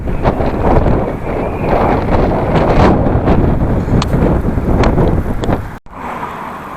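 Strong tailwind buffets the microphone in steady gusts on a mountain road in Sichuan, China, a loud roaring rumble with occasional faint clicks and rattles.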